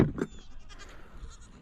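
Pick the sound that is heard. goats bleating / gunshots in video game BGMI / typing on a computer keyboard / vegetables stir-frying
goats bleating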